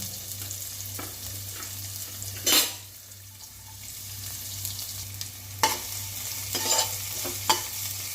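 About a hundred grams of finely chopped onion stirring and frying in a pan for a drumstick-leaf soup with coconut milk: a soft steady sizzle with scraping stirs and a few sharp utensil clinks against the pan.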